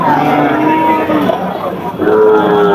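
Cattle moo several times in a busy cattle market at Satmail, long low calls rising over a steady murmur of crowd noise.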